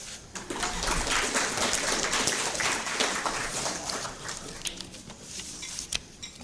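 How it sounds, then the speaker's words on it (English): Audience applause at a school athletics awards ceremony honoring scholar athletes, steady dense clapping of a moderate crowd filling the room, fairly even throughout and tapering slightly near the end. "Applause."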